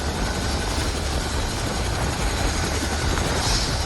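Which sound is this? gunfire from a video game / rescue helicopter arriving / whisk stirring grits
rescue helicopter arriving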